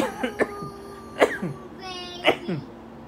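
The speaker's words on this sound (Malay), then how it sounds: "Batuk kejap minum air sikit" Several sharp, close coughs in a short series, spaced unevenly, with a faint hum in the background.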